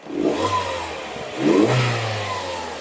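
A car engine revs twice as the throttle is pressed, each rise swelling up from idle and settling back, close and fairly loud.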